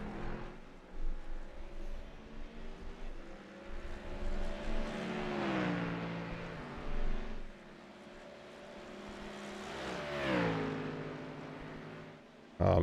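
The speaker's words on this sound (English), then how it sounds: "that Mustang sounds really good" A Ford Mustang race car in a racing video game revs steadily, its engine rising and falling through repeated gear changes at moderate loudness across a continuous lap, with no talking.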